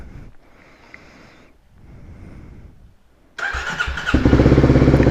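A Kawasaki Versys X300 motorcycle has its choke pulled out and is started: a quiet cranking whir gives way to a sudden catch, then the engine revs up and settles into a loud, steady running note close by.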